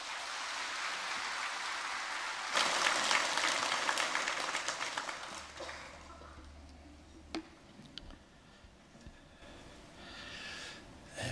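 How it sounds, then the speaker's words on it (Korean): A church audience claps to welcome a retired pastor, a broad wash of applause that swells and then fades into scattered claps and quiet. "환영의 마음을 담아서 큰 박수로 모시겠습니다."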